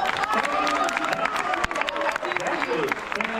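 A crowd at a live comedy-style show in Singapore applauds a young male performer, with dense, steady clapping mixed with cheering and voices throughout.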